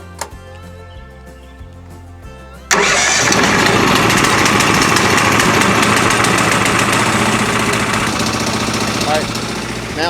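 After a quieter opening with a voice, a portable sawmill's engine fires up abruptly outdoors in the cold with the choke on, then settles into a loud, close, rattling idle that runs steadily to the end.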